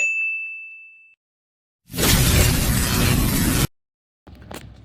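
A single bright ding rings out and fades, then a loud burst of noise follows after a short silence.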